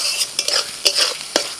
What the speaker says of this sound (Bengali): মশলাটাকে ভালো করে কষিয়ে নিয়েছি।